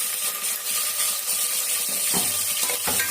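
Onion with green chillies and ginger-garlic paste fries in a pan with a steady close sizzle, joined late by a few soft stirring knocks.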